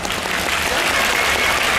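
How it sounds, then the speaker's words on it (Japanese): Outdoor crowd in cold weather applauding and cheering during a kabuki actors' procession in Hakata, a loud continuous wash of clapping and voices with no pauses. "熱い声援をありがとうございます"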